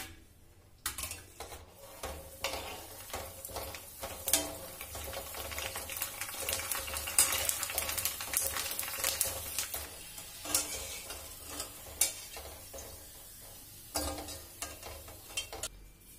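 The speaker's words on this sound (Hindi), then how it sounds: "तेल अच्छा गर्म हो गया इसमें डाल देते हैं ऐसी बिल्कुल फुल्की जैसी लग रही है इस तरह हम ये सारी फुल्कियां इसमें फ्राई कर लेंगे" Besan fulkis frying in hot oil, with a crackling sizzle throughout and sharp bursts and spoon clatters as the batter drops are added and moved around. No talking.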